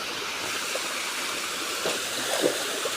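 Stream water flowing steadily at Meiyanuththupatti Valukkuparai falls, a continuous moderate rush heard close by and alone, with a few faint splashes near the end.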